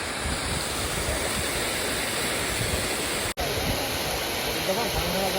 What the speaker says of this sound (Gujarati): સરસ પાણી વહે